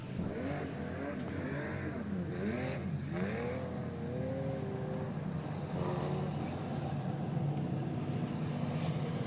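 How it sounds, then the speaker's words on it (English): A modified production race car revs and drives at a speedway, its engine a steady, moderately distant drone with rising and falling pitch as it accelerates and backs off, continuous throughout. "Peter Lack is the winner and will do his lap of honour."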